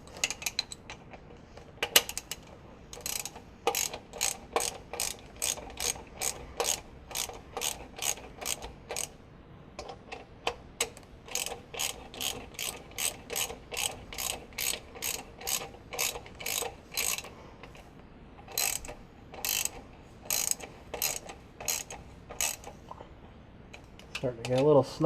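A ratchet wrench clicks in rapid, repeated bursts while tightening the bolts of a high-torque mini starter motor, close and crisp, with short pauses between strokes.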